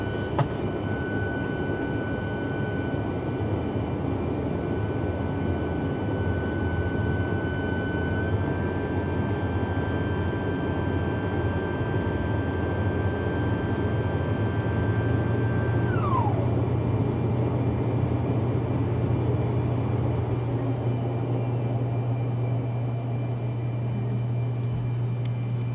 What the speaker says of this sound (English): Quick taxi in and we shut down on stand